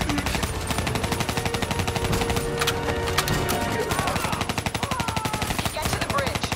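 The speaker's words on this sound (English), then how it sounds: "Give me some cover fire." Black Ops III video game battle: rapid, continuous automatic gunfire of cover fire rattles densely and loudly throughout, with occasional heavier shots and faint game voices beneath.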